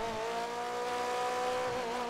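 A car engine with a modified, pickup-truck-like tone hums and revs steadily and fairly loud, a sustained buzzy drone with no talk.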